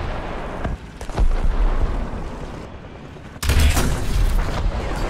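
A War Thunder tank cannon fires in loud, close booms. One blast comes early, then a sharper, bigger shot hits about two-thirds of the way in, with a deep low-end punch and a rumbling tail after each.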